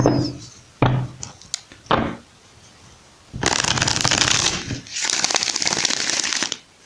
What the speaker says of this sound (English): let me just shuffle a few more times